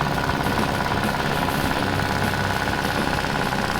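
A snowblower engine runs steadily to warm its oil, a loud, close, continuous mechanical drone with a rapid knocking pulse and no talk.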